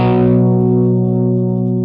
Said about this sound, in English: it sounds like rock guitar power chords